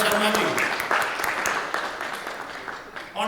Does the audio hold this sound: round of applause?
yes